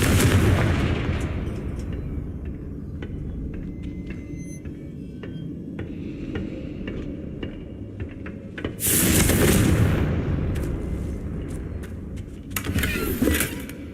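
Confringo explosive spell cast in the Hogwarts Legacy game during a fight with Ashwinders, producing loud blasts with a bright burst of noise around nine seconds and another near thirteen seconds over a rumbling game background.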